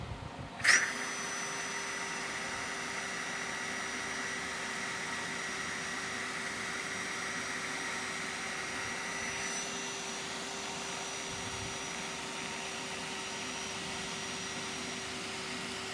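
A hot cordless drill with a low battery whines steadily at a constant pitch for a long stretch, spinning a pinstripe removal tool on an 1985 Chevrolet C10, starting with a brief click, moderately loud against faint background hiss.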